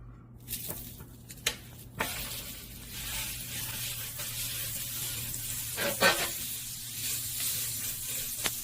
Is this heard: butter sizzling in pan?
yes